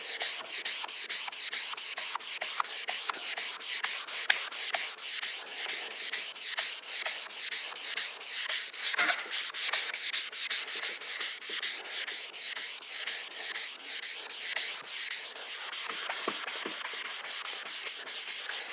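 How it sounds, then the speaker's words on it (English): A yellowed car headlight lens is sanded with the fine side of a sanding sponge, giving a steady, close scratchy rubbing in quick repeated strokes that continues throughout without talk. "let's continue the sand, and we're going to use the fine side now"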